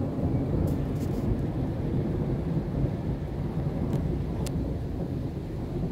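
A thunderstorm over Lazarevskoye in Sochi, heard from under a shelter: heavy, steady rain-like roar with deep rumbling thunder rolling continuously and loudly throughout.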